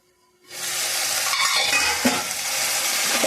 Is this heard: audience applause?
no